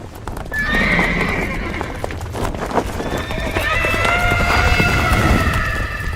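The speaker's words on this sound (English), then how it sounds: "You're spooking my horse." A horse neighs shrilly several times over rapid clip-clopping hooves, a loud close scene in a radio drama, with the whinnies stretching across the second half.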